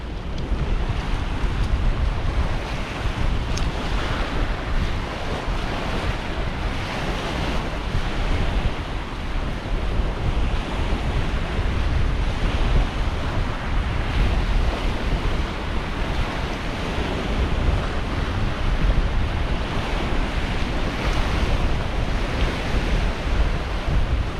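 Strong wind blows across the bank of the River Humber in a steady, loud broadband roar, buffeting the microphone with rumble throughout, with water or surf-like noise beneath and no talk.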